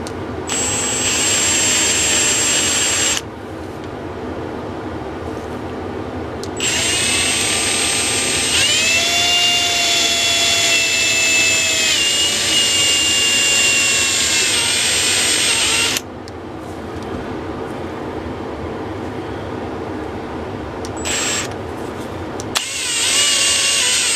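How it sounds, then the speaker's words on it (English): A power drill bores a pin hole in an 1890s vintage T-handle ratchet brace, a loud, close, steady high whine that runs for long stretches, changing pitch as it labours and briefly stopping twice. "watch me drill it perfectly"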